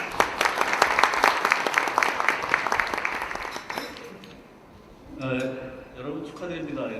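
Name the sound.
audience applause welcoming keynote speaker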